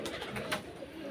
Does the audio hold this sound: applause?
no